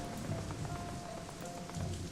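Pelting rain in the video game Shadowrun: Hong Kong, a steady dense hiss of falling drops on surfaces, continuous and fairly soft throughout with no voices.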